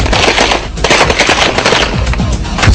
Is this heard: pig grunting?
no